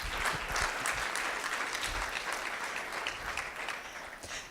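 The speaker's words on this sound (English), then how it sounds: "Give her a round of applause." A large audience at a leadership talk breaks into sustained applause, a dense, even wash of clapping that holds steady at full strength for several seconds without voices.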